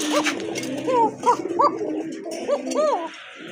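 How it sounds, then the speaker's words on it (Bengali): A pair of Koka pigeons coo close by in a series of soft, rising and falling calls, several overlapping in quick succession. "খুবই চমৎকার কোকা কবুতর এক জোড়া"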